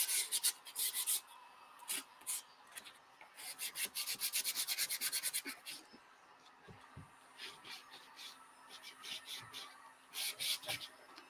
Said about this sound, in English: So sanding is also going to change the color of your paint.